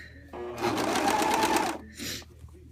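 A serger overlock machine stitches a blind hem on knit fabric, running in a fast even whir for about a second, then a shorter burst after a brief pause.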